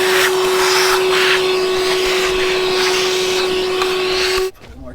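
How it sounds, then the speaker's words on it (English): A vacuum cleaner sucks up debris inside a Ferrari F430 during transmission work, giving a loud, steady whooshing roar with a constant whine that cuts off abruptly near the end. "I'm gonna vacuum up some of this debris"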